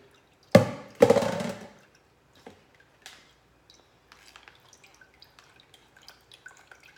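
Watermelon juice drips through a filter in a kitchen: two loud splashing pours at the start, then a sparse, irregular patter of small drops falling into liquid, close and quiet.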